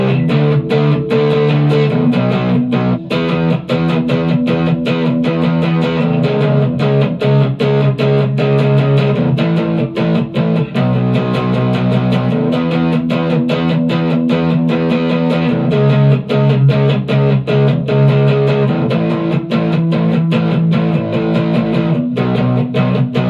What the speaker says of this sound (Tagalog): Yung unang effects na gamit ko, distortion. Nakaset na siya sa tunog na gusto ko. Medyo may pagka-heavy yung tunog nito.